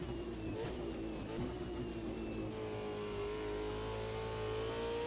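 A racing car engine in a sim racing game drones loudly and continuously at high revs, with pitch shifts as gears change partway through, steady and close with no voices.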